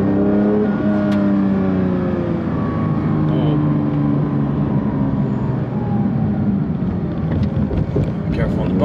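Engine of a 992-generation Porsche 911 GT3 running steadily and rising slightly in pitch while driving, heard loud and continuous from inside the car, with faint talk mixed in.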